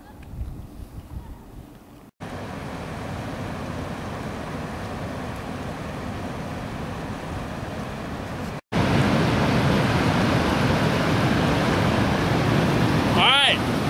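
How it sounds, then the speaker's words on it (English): Water rushes through a hydropower dam in a loud, steady, broadband roar, with wind buffeting the microphone and two abrupt jumps in level as the sound grows closer and louder. "here we have the major water dam, and the water flows through here"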